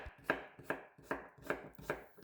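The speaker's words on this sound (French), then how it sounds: "j'émince un oignon, je coupe une demi-aubergine et une demi-courgette" A knife chops onion, aubergine and courgette on a cutting board in five evenly spaced strokes, crisp and close, with no talking.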